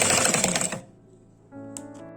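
A sewing machine stitches frock cloth onto its lining for a small girl's dress, giving a brief, dense, rapid burst of stitching that stops abruptly, followed by quiet and a faint click or two.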